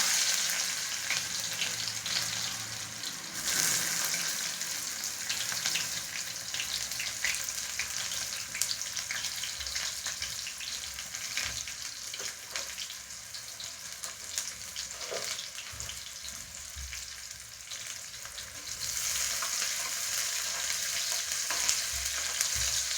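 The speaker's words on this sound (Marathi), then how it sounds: "तर कलर चेंज झालाय, फोडणीला कांदा टाकते" Onion hisses in a cumin tempering with a steady, close sizzle that runs without a break, while occasional stirring scrapes and taps sound over it.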